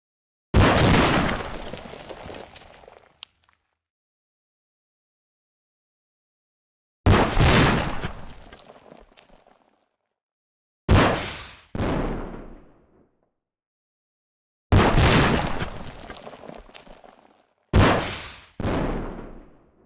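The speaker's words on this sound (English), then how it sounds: "Test firing rockets at close and far targets." A rocket launcher in a video game fires rockets that blast and explode, five loud booming bursts each trailing off into silence, some paired as a launch followed quickly by an impact.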